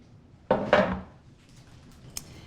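Loose granola mixture tipped and spread onto a metal sheet tray, a couple of close scraping, rattling clatters followed by a short quiet rustle and a small sharp clink.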